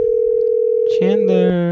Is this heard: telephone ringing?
yes